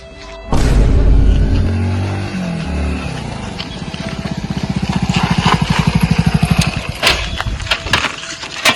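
A motorcycle engine starts with a loud burst, then runs with a rapid, steady putter that builds over several seconds before revving and fading into mixed background noise.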